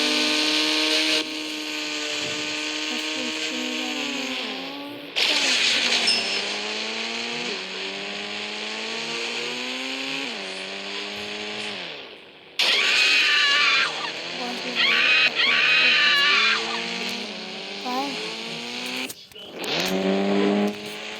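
Bugatti being driven in a video game, a synthetic engine whine rising and falling through repeated gear shifts with brief cut-outs, loud and close, mixed with game effects.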